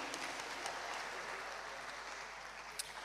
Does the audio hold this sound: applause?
yes